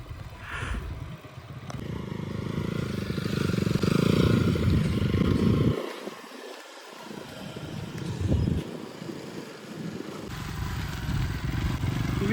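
A Bajaj Pulsar 200NS motorcycle being ridden by a learner, its engine droning and rising under throttle with wind buffeting the microphone, dipping briefly mid-way before picking up again.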